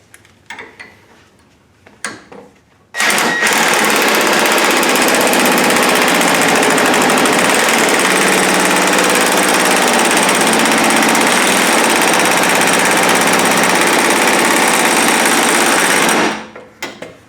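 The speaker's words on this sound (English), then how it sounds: "I'm going to throw an impact on there and see what it does" Impact wrench hammering on a stuck pitman arm nut, a loud continuous rattling burst lasting about thirteen seconds, preceded by a few quieter clanks and tapering off at the end.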